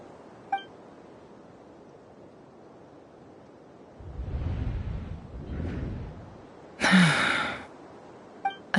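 A video game character gasps in a short, breathy intake during a quest scene, rising out of quiet ambience and followed by a brief bright burst of noise and faint clinks.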